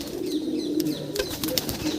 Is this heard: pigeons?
yes